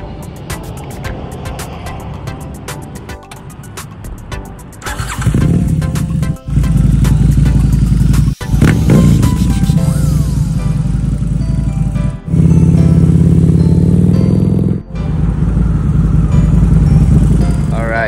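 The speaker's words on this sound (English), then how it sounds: "I'm gonna make one more round with this bike and get home." A Harley-Davidson V-Rod motorcycle starts up, then its engine rumbles loud and close as it pulls away, with revs rising and dropping and brief pauses between gear changes.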